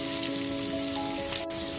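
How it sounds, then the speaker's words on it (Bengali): Boiled jackfruit pieces sizzle and crackle steadily in hot oil, the same oil just used to fry potatoes; a close, continuous frying hiss with a faint steady hum underneath. "ওই একই তেলের মধ্যে এবার সেদ্ধ করে নেওয়া এঁচোড়গুলোকে দিয়ে দিচ্ছি"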